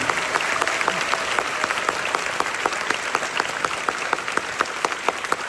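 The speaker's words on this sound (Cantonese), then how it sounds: "俾啲掌聲" Sustained theatre audience applause fills the space at a musical's curtain call, dense steady clapping from a large crowd at even loudness throughout.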